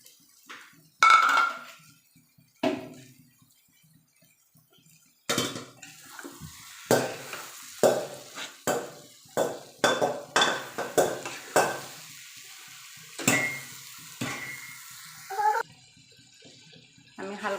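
Dried hilsa fish pieces go into a pan of cooked onion and spices, followed by a series of quiet clinks and scrapes of a spoon stirring against the pan, in short bursts with pauses between.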